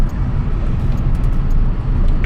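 A car cruising at steady speed on an open highway, a constant low rumble of engine and road noise from inside the cabin, with no talk.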